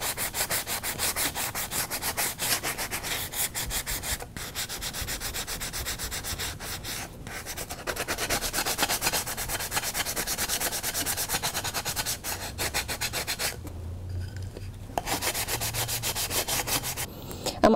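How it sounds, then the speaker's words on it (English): A flat sponge rubbed in steady circles over a chalk-painted stencil, distressing the surface to reveal coffee-bean color beneath, makes a continuous close scratchy sanding rasp with brief pauses, with no talking. "I'm also going to use the flat part of the sponge in a circular manner, and I'm distressing my stencil"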